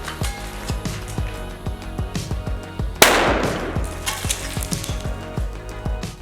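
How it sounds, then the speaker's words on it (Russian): An airsoft grenade bursts with a sharp loud bang beside a green gas canister, amid a series of repeated clicking and popping sounds before and after the blast, followed by a fizzing hiss. "Посмотрим, как баллон выдержит взрыв гранаты."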